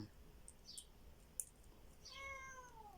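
A passing cat gives a single faint meow near the end of a quiet indoor stretch, after a few soft clicks and a sharp tap; no speech is heard.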